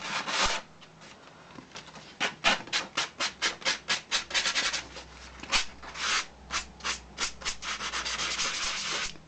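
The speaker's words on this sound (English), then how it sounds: "just a very gentle sand will get rid of that, and we'll take the edge off here as well." A junk journal's edges are sanded gently by hand, a quick run of rhythmic rasping strokes, close and clear, in steady bursts with short pauses between them.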